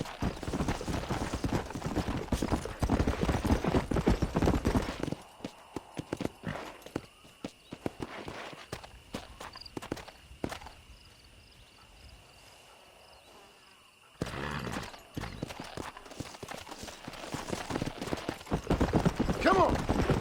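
Horse hooves in the Red Dead Redemption video game, rapid rhythmic clip-clop galloping that drops to near quiet midway before the pounding resumes, with crickets and characters talking over it.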